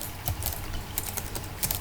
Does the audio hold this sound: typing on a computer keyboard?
yes